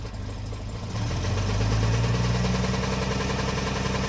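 An old Mercedes engine idles roughly, a steady low rumble with uneven pulsing that grows slightly louder after the first second and continues close and unbroken, with no voices present.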